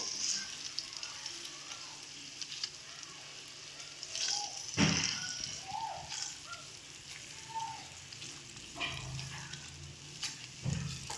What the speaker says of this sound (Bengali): মাছের ডিমটা দিয়ে ভালো করে মশলার সাথে মিশিয়ে নেব